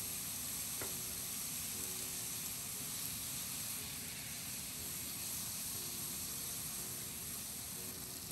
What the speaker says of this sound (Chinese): 炒出蒜香味后，和鱼一起炒。